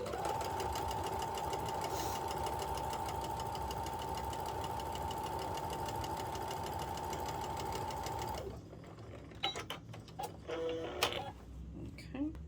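A domestic sewing machine stitches a quilt seam, a loud steady whirring run for about eight seconds, then stops, followed by quieter handling noises of fabric and machine.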